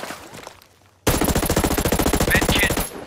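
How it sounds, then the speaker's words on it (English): Automatic rifle fire in a PvP firefight in Ghost Recon Breakpoint: after a quieter moment, a long loud burst of rapid, evenly spaced shots erupts close by and continues to the end, with brief game voice callouts over it. "I hear gunfire."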